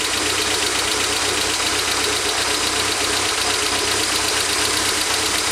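A 1992 Toyota MR2 engine idling roughly with a misfire from a bad computer ground, a steady loud close-up drone with uneven knocking and shaking throughout, no talking.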